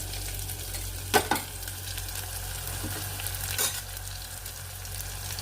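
Shallots, garlic and ginger sizzle in hot oil in a pan for a mackerel curry, a steady close crackle with a couple of sharp stirring clatters early on and another scrape later.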